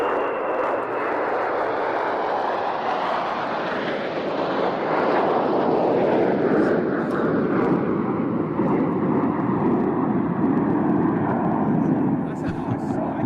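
Canadian F-18 fighter jets fly past with a loud, sustained roar that swells in the middle and rumbles on, a voice speaking faintly over it.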